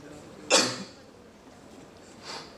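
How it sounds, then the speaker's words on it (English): A single sharp cough from someone feeling under the weather at an evening panel talk, close and fairly loud, followed a couple of seconds later by a fainter second cough or throat sound. "so you'll have to pardon the cough"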